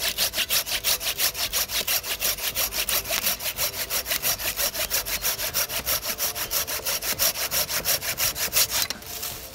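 A fine-tooth Super Accel hand saw cutting through a large piece of wood in rapid, even back-and-forth strokes, loud and close, about forty rasping pulls before it stops near the end.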